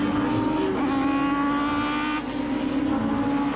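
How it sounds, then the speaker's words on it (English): Super touring race cars, including a Toyota Camry, racing at Zwartkops circuit in 1995, their engines droning loud and steady with a rising whine as one car passes close, no talk. "The race will be run over the full 25 laps, with Mike White out in front in the Minolta Toyota Camry."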